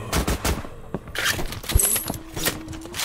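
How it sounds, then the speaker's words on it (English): Machine gun fire in Call of Duty Zombies played in Minecraft, with rapid bursts of shots in quick clusters across the three seconds, loud and close, with scraping game noises between bursts. "How's my machine gun?"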